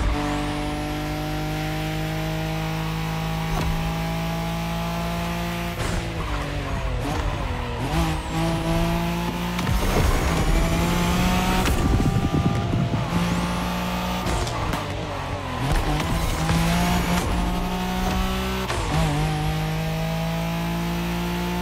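A Nissan Skyline GT-R racing in Motorfest, its engine droning steadily with sharp revs, gear changes and repeated tire squeals and skids, loud and close.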